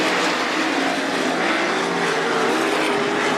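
305 sprint cars race on the dirt at Attica Raceway Park during a heat race, a continuous loud engine roar filling the whole stretch with no gaps or voices.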